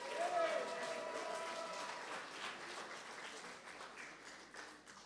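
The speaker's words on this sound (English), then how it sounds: "It's a wonderful and beautiful commitment, and it deserves much applause." A crowd applauding at a Friday night Shabbat service, steady clapping that slowly fades over several seconds, fairly distant.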